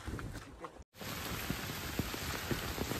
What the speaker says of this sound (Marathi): भयंकर मोठं पाऊस येता